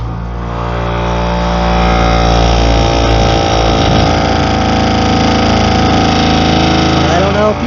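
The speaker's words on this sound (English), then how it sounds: "there's the compressor running" A train horn air compressor wired to an accessory fuse slot hums steadily and fairly loud throughout, a constant motor drone with strong low harmonics.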